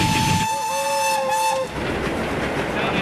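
A train on a preserved railway heads into the Bowen Tunnel, its horn or whistle sounding a sustained tone before the echoing rumble of the carriages takes over as it enters the tunnel.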